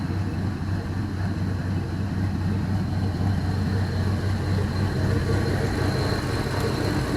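A running LS V8 engine fitted with an upgraded LS1 camshaft, with more duration and lift than the factory truck cam, holds a steady, loud, low rumbling idle through the whole stretch, close by and without speech.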